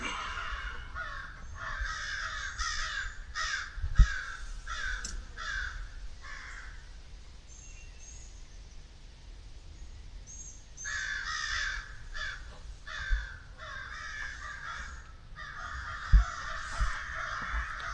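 Crows caw repeatedly and raucously, several birds calling over one another in bursts with a short lull in the middle, fairly close.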